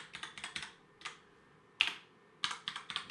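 Someone types a short password on a computer keyboard, giving quick, close, crisp key clicks in small bursts separated by brief pauses.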